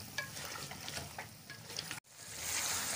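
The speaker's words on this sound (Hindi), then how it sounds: "ये अभी इसमें ऐड कर देंगे और इसको भूनेंगे अच्छी तरह" Whole spices, cinnamon pieces and black peppercorns, fry in hot ghee in a pan, giving a close, continuous crackling sizzle with light stirring; the sizzle briefly cuts out, then returns louder.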